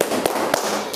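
Children clapping their hands together in a classroom "tepuk bogem" clapping game, a few sharp claps standing out from steady background noise and chatter.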